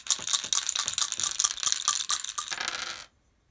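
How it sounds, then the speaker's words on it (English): Two dice rattle and clatter across a surface during a tabletop APBA Hockey board game, a quick busy stretch of clicking tumbles lasting about three seconds before stopping abruptly into silence. "And we have to roll 2 dice."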